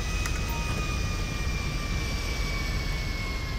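A jet aircraft engine in GTA 5 Online gives a steady, loud broadband roar with a thin whine on top, continuous and unbroken throughout.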